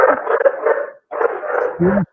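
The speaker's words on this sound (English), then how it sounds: "I can't hear you over my den of dogs." Several dogs bark and yip close by in two loud bursts separated by a brief pause, the second ending in a higher whining yelp.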